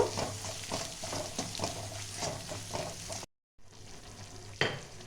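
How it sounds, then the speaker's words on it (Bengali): Dried red chillies frying in oil in a pan, a steady close crackling sizzle with a few stirring scrapes, briefly cutting out before resuming. "ঝালের জন্যে অল্প পরিমাণে একটু শুকনো লঙ্কা দিচ্ছি। এটা একটু ভেজে নেব।"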